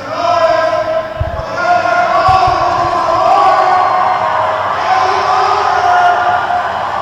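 Roller derby crowd inside a warm hangar, a continuous loud roar of cheering and shouting over the full stretch, with scattered low thumps beneath.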